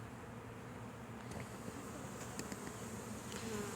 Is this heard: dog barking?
no